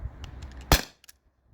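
A T4E HDP50 paintball pistol fires a single sharp, close crack, followed by a couple of faint clicks and quiet.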